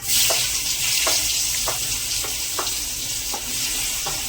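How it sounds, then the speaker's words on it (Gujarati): Onions frying in hot oil with cumin and asafoetida, a bright steady sizzle punctuated by regular spatula scrapes roughly every half second, close up and with no talking. "કાંદાને ફ્રાય કરી દેવાના છે બરાબર"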